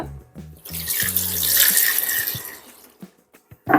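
Water pours steadily into a pot with a rushing splash, rising and then tapering off, with a few clinks at the start and end.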